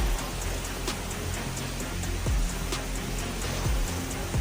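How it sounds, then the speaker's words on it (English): Tropical storm rain and wind lashing southwest Florida: a dense, steady roar of heavy rainfall with low gusty rumbles, loud and continuous throughout, with no voices. "Debbie whipped up heavy winds and rain, shaking southwest Florida with intense force."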